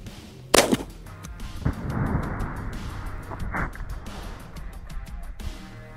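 A shotgun loaded with soft lead shot fires once through a choke, a sharp loud blast followed by a rumbling echo and some rattling handling noise outdoors.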